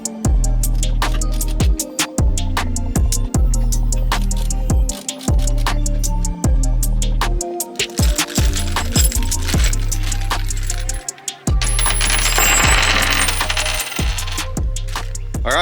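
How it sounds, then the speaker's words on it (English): Metal nuts, washers and brackets clinking and rattling during removal from a 2022 Honda hood strut bar, a busy run of sharp close-up taps and jangles over a low steady hum, with no talk. "Let's get those nuts off."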